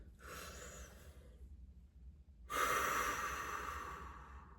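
Deep breathing exercise: two long, close breaths, a softer inhale followed after a short pause by a stronger, forceful exhale that fades slowly.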